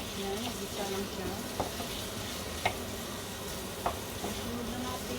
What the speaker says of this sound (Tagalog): Tapos, sunod na natin ang luya. Itong lemongrass. Yan, gisa lang siya.